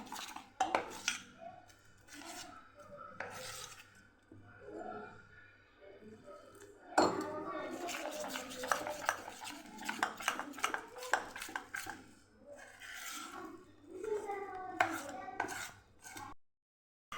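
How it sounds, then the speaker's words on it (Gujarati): A spoon clinks and scrapes rhythmically against a bowl as gram flour batter is stirred with water, with a voice talking at times. "હવે આપણે થોડું થોડું પાણી ઉમેરી અને બેટર બનાવી લેવાનું છે"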